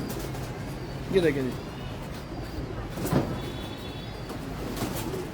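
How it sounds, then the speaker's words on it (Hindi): Slate-grey pigeons coo softly on a rooftop in two brief low bursts, partly masked by someone talking and steady outdoor background noise. "ये स्लेटी कबूतर है"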